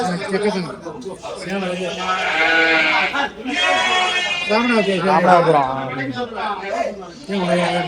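Several goats bleat loudly and repeatedly at close range at the Veppur goat market in Cuddalore, Tamil Nadu, overlapping with a murmur of people talking in a busy outdoor setting.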